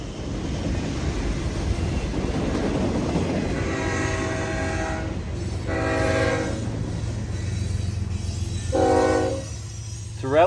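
A westbound freight manifest train rumbles past steadily in Atlanta, with three distinct horn blasts sounding over the continuous roar of the rail cars.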